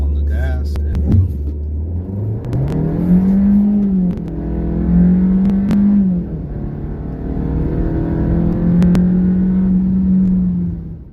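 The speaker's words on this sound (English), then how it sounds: "Alrighty guys, doing 0 to 60 run. Foot on the brake, on the gas, and go." A 2024 Kia K5 GT-line AWD launches from a stop in a 0 to 60 run, its engine roaring close and loud as revs climb, drop at gear shifts and climb again, with the driver's voice briefly heard.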